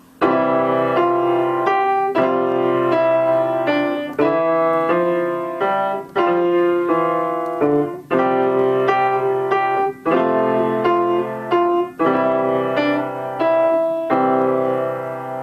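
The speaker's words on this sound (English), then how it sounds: "that was the Acciaccatura with the portamento and the slurs" Slow piano acciaccatura exercise of repeated short phrases with quick grace notes and slurred, gliding portamento lines, played alone at steady moderate volume with brief pauses between phrases.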